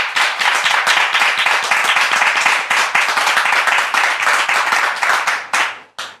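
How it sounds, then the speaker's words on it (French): A church audience claps steadily in a dense, continuous round of applause that stays loud and even before fading out quickly near the end. "je voudrais demander à notre public d'acclamer le Seigneur pour la vie du pasteur Timo"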